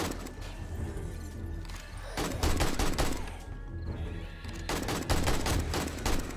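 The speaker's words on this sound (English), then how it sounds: "this AK is pretty nice, man" An AK rifle fires in the video game 7 Days to Die, Alpha 19, during a night horde attack. Repeated loud bursts of automatic gunfire come in dense rattling volleys, with short pauses between them, and no talking.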